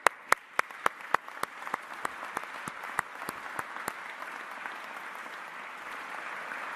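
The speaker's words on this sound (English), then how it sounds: "I want to give you a big round of applause" Audience applause at an event at an EV battery separator plant in Port Colborne, Ontario: a few loud, close, separate claps at the start, then a soft wash of crowd applause that gradually thins out.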